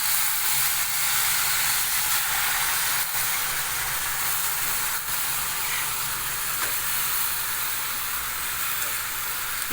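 Chicken heart pieces hiss and sizzle steadily in a hot frying pan after masala has been added, a continuous broad frying noise that stays alone without talk throughout.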